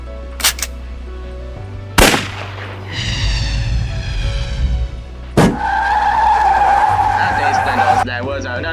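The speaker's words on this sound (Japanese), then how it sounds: "As the drive shaft let out an ugly rattling sound, all 4 wheels locked up, bringing it into a jarring and total halt." A military Humvee in a video game locks all four wheels after its drive shaft is shot, with gunshot cracks, a grinding metallic rattle and a long, loud tire screech as it skids to a jarring halt.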